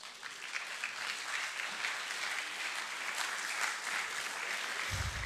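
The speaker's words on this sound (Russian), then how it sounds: "Вот здесь место аплодисментов." Steady, even applause from an audience at a church gathering, a continuous wash of many hands clapping at moderate volume with no voices over it.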